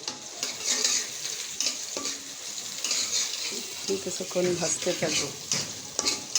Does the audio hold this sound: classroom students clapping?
no